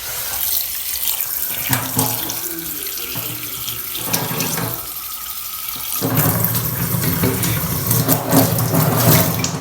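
Water pours from a tap into a sink in a home kitchen, a steady splashing rush with shifting tone as the flow hits different surfaces, close and continuous throughout.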